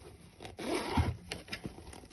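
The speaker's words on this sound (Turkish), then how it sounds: "Aa içinde bir tane daha fermuar var. Açıyorum burayı da." A small decorative pouch has its inner zipper drawn open by hand, a short rasping zip rising in the middle and then trailing off into a few soft rubbing scrapes, close and fairly quiet with no voices.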